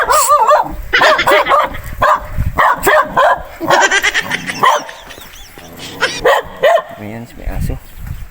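A dog barks and yips repeatedly in quick, loud bursts close by, with whiny tones between the barks, in Binmaley, Pangasinan.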